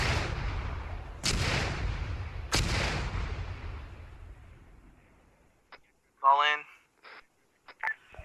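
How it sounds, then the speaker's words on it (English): Mortar fire in the Arma 3 military video game: two heavy, close booms a second apart, each rolling into a long fading rumble, followed by short bursts of radio-style voice chatter. "Twice you killed me with mortars."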